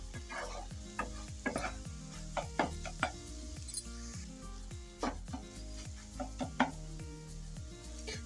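Egg bhurji frying in a pan with green coriander and green garlic, stirred with repeated scraping clinks of a utensil against the pan over a steady sizzle, close and moderately loud, with no talking.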